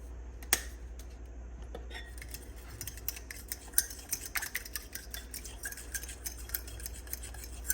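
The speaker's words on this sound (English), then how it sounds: "Whisk, whisk, whisk." A whisk knocks and scrapes steadily inside a bowl of chicken marinade, quick light clicks in an irregular rhythm over a low steady hum, fairly quiet and close.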